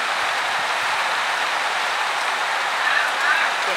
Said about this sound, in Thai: ฝน เริ่มแรงละ